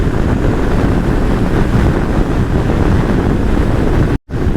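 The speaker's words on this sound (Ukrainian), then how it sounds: "боковий вітер зовсім не дитячий. Так добряче дмухає." Strong crosswind buffets the microphone in a steady, loud roar of low rumbling gusts, with a brief dropout near the end, in Scotland.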